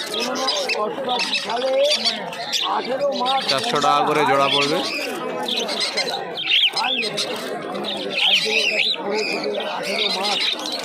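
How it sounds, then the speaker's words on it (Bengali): Many budgerigars chirp and squawk busily together at a pet market in Uluberia, close and continuous, while a person talks over the chatter. "এখানে অনেক বদ্যি পাখি রয়েছে"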